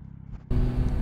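Yamaha Tracer 9 GT engine note shifts abruptly mid-run as the quick shifter cuts ignition for an upshift, a low rumble turning into a louder, steady drone with no one speaking.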